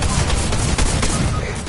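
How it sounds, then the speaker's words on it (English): Rapid bursts of video game gunfire crackle loud and close in a dense, continuous volley, with a player's voice talking over it. "Yeah, I'm getting shot at."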